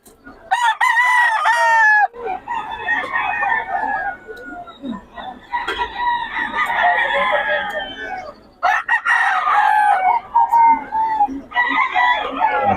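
Several fighting roosters crow loudly and close by in repeated drawn-out calls, one after another, with clucking between them and someone talking in the background.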